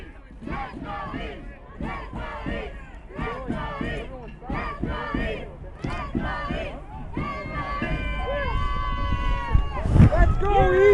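Danbury supporters at a boys high school soccer game chant a rhythmic cheer in unison, the crowd's voices rising in repeated bursts, then swelling into sustained shouting as the chant builds near the end.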